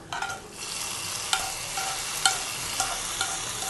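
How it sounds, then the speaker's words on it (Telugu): A spoon stirring dry fish curry with fried fish and eggplant in a pan, steady sizzling frying underneath with several distinct scraping strokes against the pan, close and fairly loud, no voices. "ఫ్రై ఫిష్ యాడ్ చేసిన తర్వాత కర్రీ అంతా కూడా మరొకసారి బాగా కలిసేటట్టు మిక్స్ చేసుకోవాలండి"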